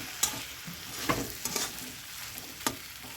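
Capsicum and onion fry in a pan for chicken Patiala, a soft sizzle under a few sharp clinks and scrapes of a spoon stirring against the metal.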